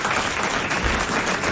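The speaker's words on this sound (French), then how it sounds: "Nous l'applaudissons." Studio audience at a 1994 French television show applauding a contestant who has just won a prize, a brief, dense burst of many hands clapping.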